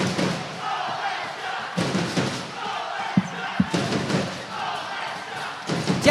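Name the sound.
Fortitudo Pomezia fans cheering at futsal match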